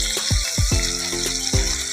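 Magur catfish frying in hot oil, a steady loud crackle and sizzle with repeated sharp pops and spits through the whole stretch, close up with no voices.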